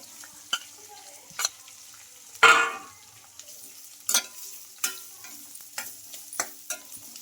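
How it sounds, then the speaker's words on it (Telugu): Green chilies and long-sliced onions fry in a pan, a soft sizzle broken by sharp, irregular stirring clatters, one louder scrape near the start. "ఈ పచ్చిమిర్చి ముక్కలు కూడా కొంచెం ఫ్రై అయిన తర్వాత అయితే ఇలా పొడవుగా కట్ చేసుకున్న ఆనియన్స్ కూడా వేసేసుకోవాలి"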